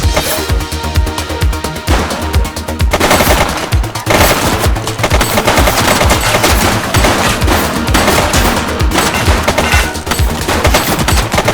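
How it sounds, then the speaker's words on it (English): Loud, dense video game gunfire from The Precinct, with rapid automatic bursts and sharp single shots filling the whole stretch and no voices. "He's shooting!"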